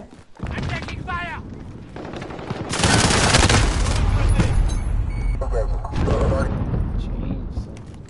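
Sustained gunfire in a Call of Duty match, a dense loud barrage of shots that swells midway and keeps rattling with game noise and a voice briefly over it.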